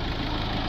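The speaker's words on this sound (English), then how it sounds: "we'll just start the vehicle up, let it idle for a minute" An Iveco van's diesel engine idles steadily up close, a continuous low rumble with a faint knocking texture and no voices.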